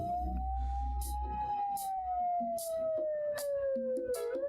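A single siren tone rises slowly and then glides gradually down, with a second siren faintly audible and some clattering noise underneath.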